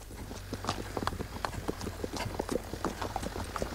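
Hooves clip-clop at a steady walking rhythm, a series of crisp knocks heard at moderate distance over a low background hum.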